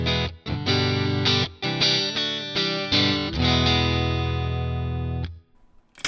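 Electric guitar with a clean tone played straight into the amp, all pedals off, strumming loud sustained chords with a few pauses before ringing out and stopping near the end.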